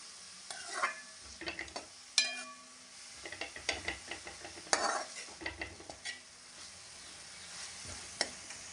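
Grated carrots roasting in a kadhai for gajar kheer, with a soft steady sizzle under repeated scraping and clinking strokes of a spoon against the pan, close and irregular.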